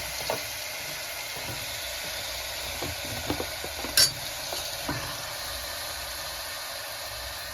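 Capsicum, green peas and tomato sizzle in a pan for veg pulao, a steady soft frying hiss with occasional stirring scrapes and one sharp clink of a spoon against the pan.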